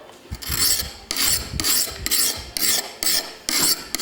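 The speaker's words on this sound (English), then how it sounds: "File up against the blade." A diamond file rasps against an axe blade in about eight quick, evenly spaced strokes, each a bright gritty scrape, close and clear with no talking.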